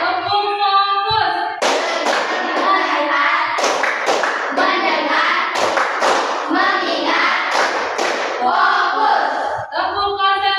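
A classroom of children claps a rhythmic 'focus' chant, with sharp repeated clap bursts in a steady pattern and a teacher's voice calling between them.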